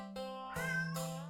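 A cat meows twice in quick succession, each call a clear, close, tonal cry that rises and falls, with a faint steady hum underneath.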